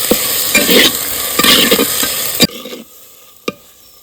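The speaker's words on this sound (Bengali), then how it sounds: "অল্প শুকনো লঙ্কার গুঁড়ো এবার ভালো করে কষিয়ে নেব" Spices and dried chilli powder sauté in hot oil for Kashmiri aloo dum, with loud scraping stirs over a crackling sizzle. Near the end the frying quiets, leaving a softer hiss and one sharp knock of the spoon against the pan.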